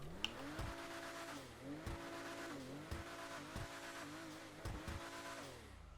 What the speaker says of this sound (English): Definitely sounds like a little turbocharged 4-cylinder.